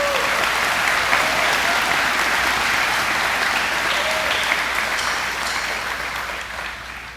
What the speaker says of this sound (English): So, another round of applause and thank you to everyone sitting in the crowd tonight.